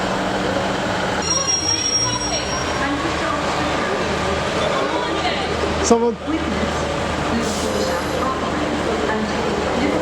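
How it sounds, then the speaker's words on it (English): A Midlands train departs Sheffield railway station with a low rumble, rolling wheel noise and a brief squeal, heard at a moderate distance with station ambience and someone talking. "there goes the Midlands train"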